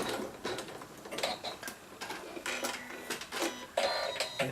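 A sewing machine stitches the final seam of a fabric stocking with a busy, clattering mechanical run of uneven intensity and no talking.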